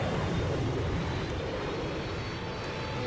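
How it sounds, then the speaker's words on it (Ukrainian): A constant roar from an airplane arriving, a broad, loud rushing engine rumble that holds steady throughout with no talking. "а поки літак приїжджає, ви слухаєте це"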